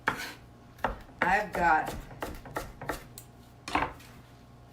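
A knife chops an onion lengthwise on a cutting board in a series of sharp, uneven thuds and scrapes, close and fairly loud, while someone speaks briefly between strokes.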